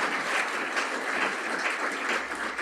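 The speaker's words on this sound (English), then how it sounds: "We'll give them a round of applause." Applause for panelists at a weekly community meeting, a steady, fairly soft patter of many hands clapping throughout, with no talking over it.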